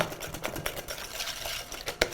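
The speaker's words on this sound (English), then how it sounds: "So a whisk will be fine just to beat up that egg." A whisk beating an egg into a maple and walnut batter in a bowl, giving a fast, steady scraping and tapping rhythm, close and fairly soft, with one sharper clink near the end.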